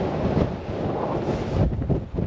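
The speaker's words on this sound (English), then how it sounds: "Still very breezy here being on the west coast, but it's a lot less windy than the east coast." Steady wind buffets the microphone on an exposed west coast clifftop, a continuous low roar with gusty swells and no voices.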